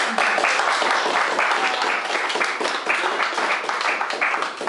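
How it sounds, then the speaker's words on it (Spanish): Sustained applause from an audience at a documentary film discussion event, dense steady clapping from many hands filling the room at close range for several seconds, with no speech over it. "No sé, un aplauso por ellos."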